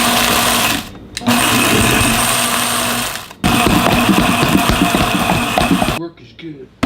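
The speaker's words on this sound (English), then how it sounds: "And then I get to use my cool Vitamix, the dry one." A Vitamix dry-container blender grinds basil and Parmesan for a crust with a loud, close, steady whirring roar. It pauses briefly twice, then cuts off near the end.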